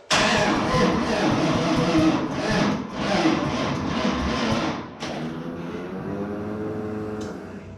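Starter cranking a Hemi-swapped step-side truck engine on a test start, a loud close whirring churn for about five seconds before it stops, followed by quieter rumbling background.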